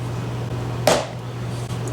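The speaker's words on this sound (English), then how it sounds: "put the handle of this hammer right here and hit the top of it with this rubber mallet" A single sharp whack of a rubber mallet striking the top of a hammer handle to loosen bolts on a tire, brief and close over a steady low hum.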